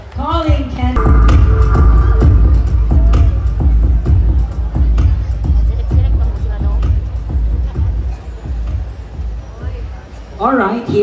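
A loud crowd cheers and roars at a gay pageant festival in Pantukan, Davao de Oro, a dense, sustained wave of voices with an amplified voice rising at the end.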